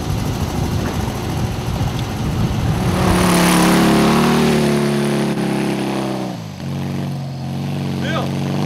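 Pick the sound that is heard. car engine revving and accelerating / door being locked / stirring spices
car engine revving and accelerating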